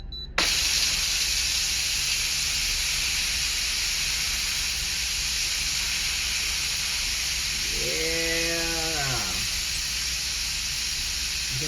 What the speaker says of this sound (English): you can hear the steam, but it's coming out from the contraption right there